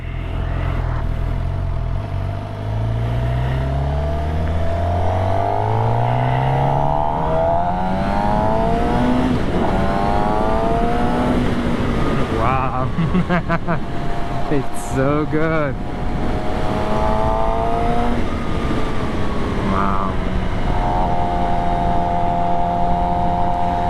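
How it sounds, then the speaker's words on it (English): A 2025 Suzuki GSX-R750 supersport motorcycle revving hard through low gears at high RPM, its exhaust note rising and falling in repeated loud sweeps up close, while a person speaks briefly over it. "The sound of that exhaust pipe."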